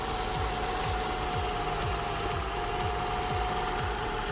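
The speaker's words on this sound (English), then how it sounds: "I've got the engine running here" A Toyota Camry XV10 engine idles with a steady broadband hum and a rhythmic low-end pulse, while a loose hose leaks air with a constant hiss, close and continuous without talk.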